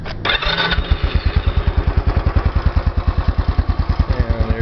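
A Royal Enfield Bullet 500 single-cylinder motorcycle fires up on its electric starter after a short crank, then settles into a loud, close, steady thumping idle with an even, pulsing beat.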